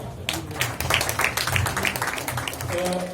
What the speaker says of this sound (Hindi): जोरदार तालियां हिमांशु दीक्षित जी के लिए